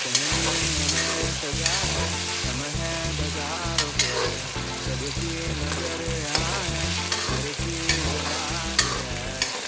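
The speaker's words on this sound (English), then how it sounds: "Now saute it till golden brown." Dal makhani masala sautéing in a pan on a low simmer, a continuous close sizzle and frying crackle with regular scraping stirs of a spoon across the pan.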